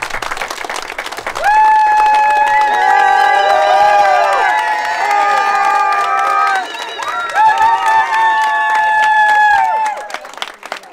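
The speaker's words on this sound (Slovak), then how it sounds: "Prosím, potlesk pre nich." A wedding crowd breaks into sustained loud applause and cheering for the newlyweds, with clapping and excited voices mixed with ringing music for several seconds before it thins out.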